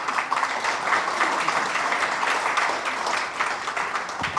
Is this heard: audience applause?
yes